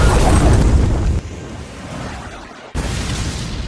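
Minecraft explosion sound effect: a loud, noisy burst that cuts off abruptly, drops to a quieter rumbling stretch, then a second sharp blast hits and sustains.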